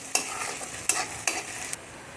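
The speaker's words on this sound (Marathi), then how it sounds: "आणि हे अद्रक लसूणसुद्धा त्याच्यासोबतच मस्त आता फ्राय करून घ्यायचे" Crushed ginger and garlic fry in a hot pan, with a soft continuous sizzle and four quick stirring scrapes close by, no voices.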